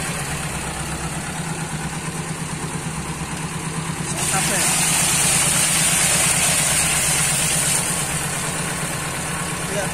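A car engine fitted with waterproof ignition built from motorcycle ignition parts idles steadily after being doused with a bucket of water, a low continuous rumble that grows louder midway, with someone talking over it.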